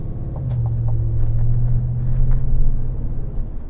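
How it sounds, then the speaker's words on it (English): Exhaust rumble from a Chevrolet Silverado 1500 ZR2 pickup while driving, a steady low drone close by with a mild swell midway and faint road and wind noise around it. "these beautiful noises that this exhaust makes make me forget all that and enjoy the drive"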